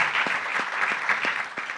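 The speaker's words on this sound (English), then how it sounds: "give a round of applause to UBA and UBA's leadership" An audience at a business event applauds, a steady wash of many hands clapping at even loudness for a couple of seconds.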